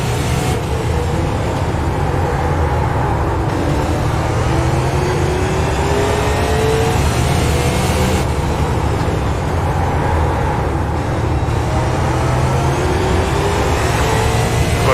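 Race cars in a sim racing game at The Bullring roar together after a green-flag start, a dense, steady engine drone with rising and falling revs running loud throughout.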